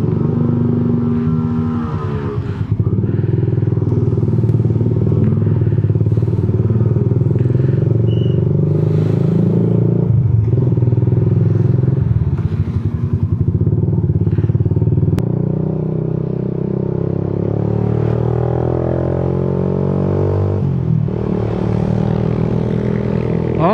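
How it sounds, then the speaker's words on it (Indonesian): A Yamaha New Jupiter MX motorcycle with a DBS racing exhaust idles loudly up close, with a throaty rumbling exhaust and several revs rising and falling over a long steady run. "jadi suaranya itu yang dihasilkan cek sound dari knalpot"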